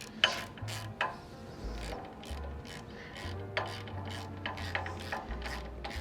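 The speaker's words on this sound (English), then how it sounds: "I'm going to use a hand wrench." A hand wrench draws the nut down onto the D-shaped shaft of a Koni shock on an NA Miata, giving a run of soft, close ratcheting clicks and metal ticks at an uneven pace, with no talk.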